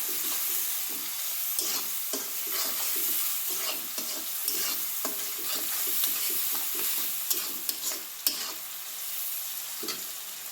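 Cabbage stir-frying in a pan with turmeric and egg, a steady loud sizzle broken by repeated scraping stirs of the spatula, close up with no talking.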